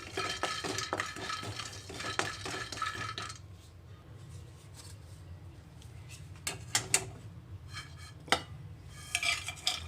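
Grated coconut being dry-roasted in a pan, with brisk scraping stirs at first, then quieter spells broken by occasional clinks and knocks of the spatula against the pan.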